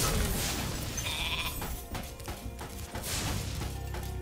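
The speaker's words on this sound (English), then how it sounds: "There's a big mean goat in that coat." A goat bleats in the video game Spyro Reignited, a nasal cry over busy game music and effects with thumps, fairly loud throughout and no talking.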